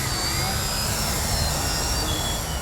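An Addiction XL RC helicopter flies aerobatic maneuvers, its rotor and motor making a steady, dense whooshing whine throughout, fairly loud and continuous without pause.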